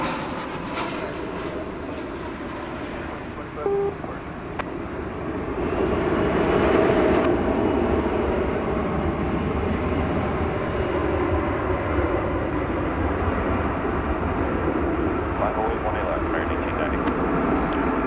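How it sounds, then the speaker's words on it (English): An American Airlines jet lands at DFW Airport on a flight from Santa Ana, California, its engine roar swelling midway and then holding as a loud, steady rumble. A voice speaks over it. "Right there, we just saw landing American Flight 2461 from Santa Ana, California."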